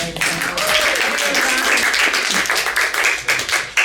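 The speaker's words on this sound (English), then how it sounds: "give him a big round of applause" A crowd claps and applauds, a dense patter of many hands lasting a few seconds, with a little voice mixed in.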